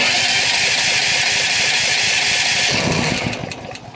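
A Firman tri-fuel generator running on natural gas chugs and roars loudly up close for several seconds, then the engine sputters and winds down near the end.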